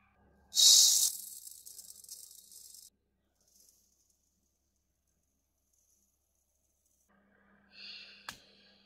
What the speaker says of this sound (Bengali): এবার আমি মুগ ডালটাকে হালকা ভেজে নেব।